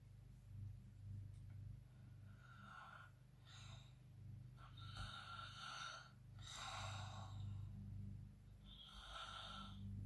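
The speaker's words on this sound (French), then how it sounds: "vous essayez de respirer par la bouche, de jouer avec ces différents axes au niveau du cou pour chercher ce bruit de ronflement" Yoga breathing through the mouth with a narrowed throat, producing soft snore-like rasps in a slow series of breaths, faint and close over a low steady hum.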